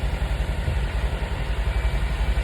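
A 2020 Jeep Wrangler with a 2.0 turbo gas engine idling close by, a steady low rumble pulsing evenly and loud throughout, with no talk.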